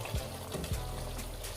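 Boiled red kidney beans tipped with their cooking water into a pot of spiced rajma masala, a soft, quiet liquid pour and trickle with a few gentle splashes.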